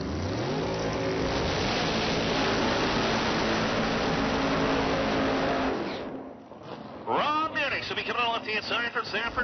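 A Pro Nitrous drag race car engine revs loud and continuously at a raceway for several seconds, then cuts off as an announcer's voice takes over.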